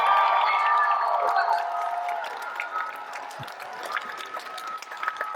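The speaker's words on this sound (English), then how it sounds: "please give Dominque Thorne a round of applause" Audience applause and cheering for actress Dominique Thorne at Dreamcon, a broadband crowd clapping that starts loud and gradually thins out, with a few scattered claps near the end.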